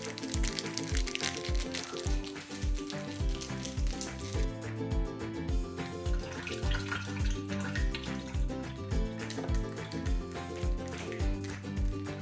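Homebrew pumpkin ale runs into a fermenter with steady splashing and liquid pouring under repetitive background music, fairly close and continuous.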